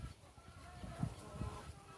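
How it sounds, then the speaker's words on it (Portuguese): Isa Brown laying hens give soft, scattered clucks over quiet background noise, with a couple of slightly louder calls in the middle. "Olha lá onde já tem franguinhas lá fora."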